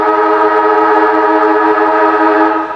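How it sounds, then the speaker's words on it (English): Loud, sustained siren wailing at quarter time of a Northern Territory Football League Australian rules match, a steady harmonic tone holding for several seconds before starting to fade. "but unfortunately the siren blows halfway through that kick"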